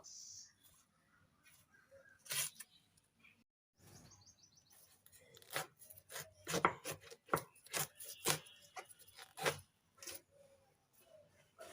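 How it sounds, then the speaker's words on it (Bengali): A knife chops taro leaves on a board in quick, crisp, irregular strokes, loud and close, with birds chirping softly in the background. "এরকম করে কেটে নিচ্ছি সবগুলো কচুর শাক"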